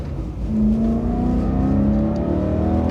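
A BMW E92 M3 engine revs hard through an aftermarket exhaust, its pitch climbing steadily in one long, loud pull up close, with no voices over it.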